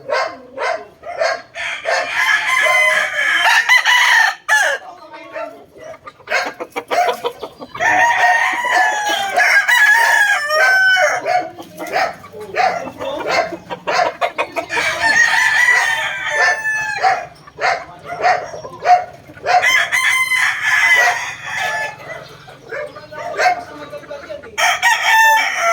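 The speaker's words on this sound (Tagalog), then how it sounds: "Ang gaganda ng manok dito" Gamecock roosters crow repeatedly at a rooster farm, several loud, near cock-a-doodle-doo calls spaced every few seconds over about twenty-five seconds, with occasional clucking between.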